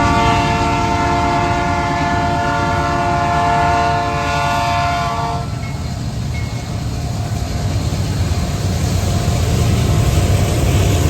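Union Pacific MSSAL freight train rolling past on the former C&NW mainline in Hudson, a steady loud rumble of railcars throughout, with a held tonal horn-like tone over the first five seconds that then drops away.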